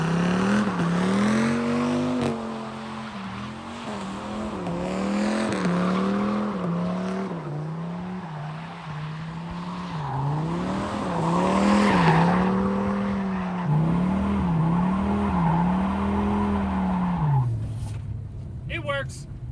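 Dodge Demon-powered truck, run for the first time in three years, roaring as it drives off with tire squeal and revving, loud and close, people talking over it throughout.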